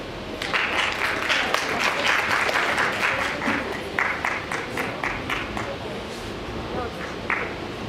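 An audience at a conference applauds to welcome a speaker, a dense burst of clapping that holds strong for several seconds, then thins and fades.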